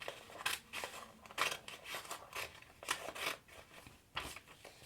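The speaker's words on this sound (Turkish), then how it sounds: "Kesip bantlayacağım." Scissors snip through paper while cutting out a shape for a handmade sushi craft, a series of close, crisp cuts in irregular bursts with short pauses between them and no talking.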